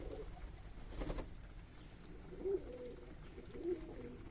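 Racing pigeons coo softly in a loft at Sona Masjid, Chapai Nawabganj, with two low throaty coos a second apart over a faint hiss of ambient noise and a few thin chirps.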